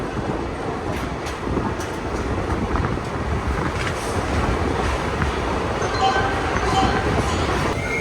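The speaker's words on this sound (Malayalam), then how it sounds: "പാലക്കാട് ഒലവക്കോട് റെയിൽവേ സ്റ്റേഷനിലേക്ക് നമ്മൾ പ്രവേശിച്ചുകൊണ്ടിരിക്കുകയാണ്." Mangalore–Chennai Egmore Express rolling into Palakkad Olavakkode railway station, heard from on board with steady wheel rumble and clatter over rails, faint squeals, and voices talking throughout.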